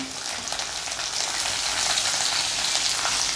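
Garlic and green chillies fry in a hot pan, a continuous close sizzle that grows slightly louder over a few seconds.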